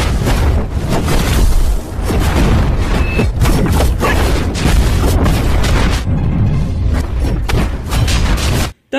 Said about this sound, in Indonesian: Bentrokan serangan mereka menyebabkan ledakan di mana-mana